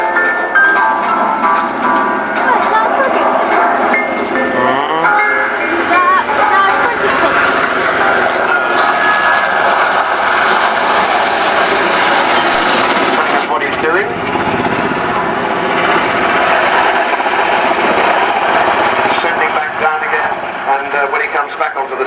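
Large three-engine helicopter with a 60-foot rotor flying at the RNAS Yeovilton International Air Day 2005: a loud, continuous turbine whine and rotor roar that swells and shifts as it passes, with a commentator talking over it.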